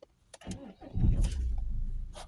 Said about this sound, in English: Start the vehicle back up.